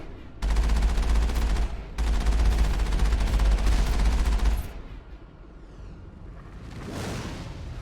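Rapid automatic gunfire in the video game Mass Effect, two long loud sustained bursts of dense rattling shots close by, then a quieter rumbling lull with a swelling blast toward the end.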